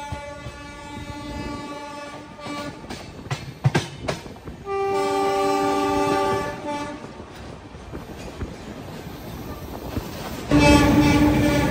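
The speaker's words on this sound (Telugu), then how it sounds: "అటు సైడ్ ట్రాక్ పైన గూడ్స్." The Andhra Pradesh Express runs near Gondia Junction beside a goods train on the side track, with loud rumbling wheels, clattering, and long tonal horn blasts that recur and swell near the end.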